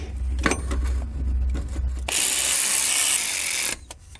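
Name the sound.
ratchet tightening silent block bolts on a Lexus LS400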